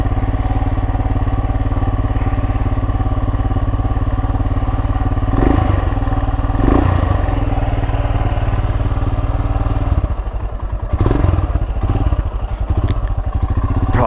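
A 2022 Royal Enfield Himalayan with a Hitchcocks carburetor conversion idles and runs steadily, its close, loud single-cylinder thump continuous throughout, with a couple of brief clattering knocks midway and a slight rev change near the end.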